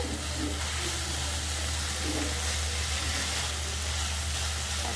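Taro leaves (kochu shak) frying in a pan on the stove, a steady even sizzle with a low hum underneath, constant and close with no voices.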